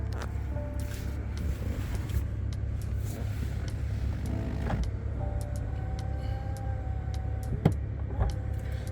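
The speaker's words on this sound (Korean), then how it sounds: "뒤쪽 커튼 같은 경우는 전동으로 가능하시고요. 작동 잘 되고 있습니다." Electric rear sunshade curtain motor in a Hyundai Grandeur IG running with a steady whirring hum over low cabin rumble, lasting several seconds with a few faint clicks near the end.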